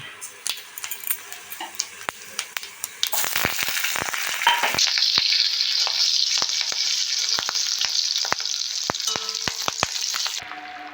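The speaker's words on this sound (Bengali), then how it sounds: "এবার আমি কড়াইতে তেল দিয়ে ফোড়ন হিসাবে দিয়ে দেব কালো জিরে গোটা জিরে আর কাঁচা লঙ্কা" Nigella seeds, whole cumin and green chilli hit hot oil in a kadai, bursting into a loud, close sizzle after a few light taps and clinks, with sharp spatula clicks continuing over the frying.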